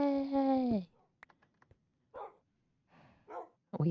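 Several dog barks and yips ring out close by, starting with one long harmonic howl-like bark, then a few short clicks and taps, and further sharp barks spaced out across the moment.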